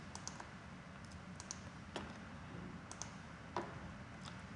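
Keyboard typing as CNC drilling feed values and spindle speed are entered: scattered clicks and key taps, fairly faint, over a steady machine-room hum with no talk.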